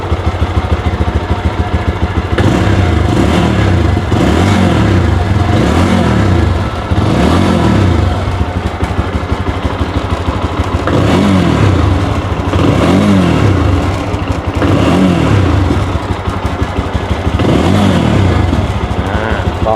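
A nearly new GPX Demon GR200 4V motorcycle engine idles, then revs repeatedly in short bursts, loud and close, with a stock exhaust note.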